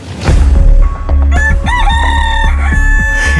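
A rooster crows loudly and close up, its rising, wavering call alone over about two seconds, preceded by a few short clucks from the fowl.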